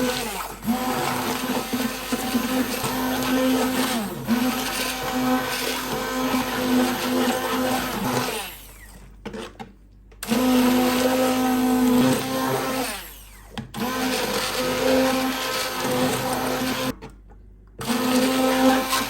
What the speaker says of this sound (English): So, hand blender ready?